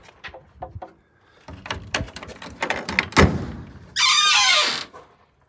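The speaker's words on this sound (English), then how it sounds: "Love this Dutch door." Someone opens the wooden Dutch door of a desert cabin, giving a few knocks and thunks, then a loud, drawn-out creaking squeak that lasts about a second before fading.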